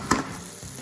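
Curry paste for a chicken, sweet potato and chickpea curry fries in a pan with a soft steady sizzle, broken early by a brief scrape or stir, quiet and close.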